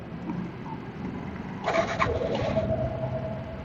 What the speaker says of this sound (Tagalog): Painitin muna natin yung ating motor.